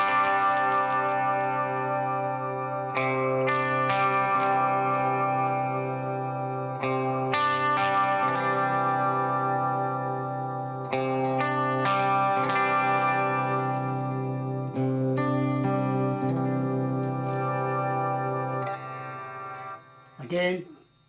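A distorted Harley Benton SC-450 P90 electric guitar on its bridge pickup plays sustained chords and short riffs, with bright buzzing overtones ringing out between picked notes.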